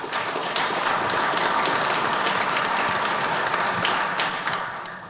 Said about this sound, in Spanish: para el cual pedimos un fuerte aplauso